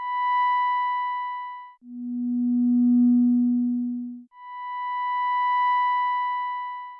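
A modular synth LFO crossfades between two steady sine-wave signals, switching from a higher tone to a lower, rounder tone and back again, with smooth swells in loudness at each changeover and no voices.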